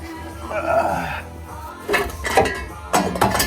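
A metal drain pan is set down beneath a 2007 Toyota Tacoma during a clutch job, giving a few clanking, scraping metallic knocks close by with some rustling movement in between.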